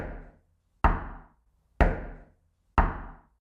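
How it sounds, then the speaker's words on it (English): Heavy knocks on a bedroom door, each one a loud, sharp thud with a short ringing decay, spaced about a second apart. Three full blows land cleanly after the tail of an earlier one. "We wake to 5 knocks on our bedroom doors"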